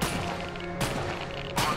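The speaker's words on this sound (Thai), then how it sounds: "ยิงสิเพื่อนดูมันใช้สไนเปอร์ซูมดิมันร้าย" Sniper rifle shots in the video game The Last Haven, two sharp broadband cracks roughly 0.8 seconds apart over a steady din of game ambience.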